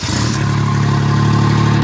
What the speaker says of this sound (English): I am going to fire up the Poney motor here for you